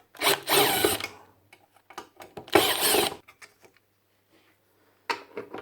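Bursts of a power driver spinning out screws on a Makita LS1013 miter saw during a tune-up, two long whirring runs with short clicks and pauses between, close and loud, no talking.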